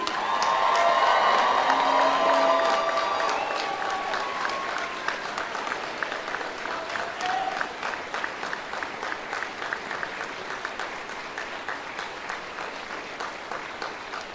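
Sustained applause from the audience at a 2019 Navy Officer Candidate School graduation: loud crowd clapping with some cheering and a whistle at first, easing into steady rhythmic clapping that carries on to the end.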